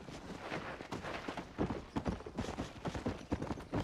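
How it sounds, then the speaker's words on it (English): Horse hooves from the video game Red Dead Redemption, an even clip-clop of steady walking footfalls, moderately close and fairly quiet, with no talk over them. "Is that a wild horse?"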